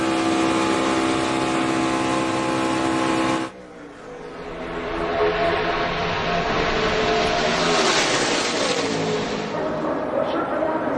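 Stock race cars run side by side in a drafting pair, a sustained loud engine roar that briefly drops, then swells again as they pass, with a commentator talking over it.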